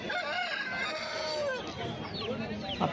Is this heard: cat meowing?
no